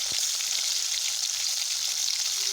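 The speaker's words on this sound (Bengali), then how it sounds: "চিংড়ি মাছগুলোকে হালকা ভেজে নেব খুব কড়া করে ভাজবো না" Shrimp frying in hot oil in a kadai give a steady, close, dense sizzle, a continuous bright crackle with no pauses and no voices.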